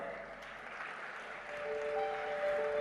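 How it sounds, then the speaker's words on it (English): Audience applause at the Bio Asia Expo 2024 stage in Hyderabad, a steady soft wash of clapping that swells slightly toward the end, with faint tonal pings underneath. "with a huge round of applause"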